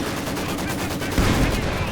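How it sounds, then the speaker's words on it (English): Mortar shells landing in Company of Heroes 2, a rumble of distant blasts and rattling fire with a heavier thump about midway, under faint background voices. "Mortar continuing to fall."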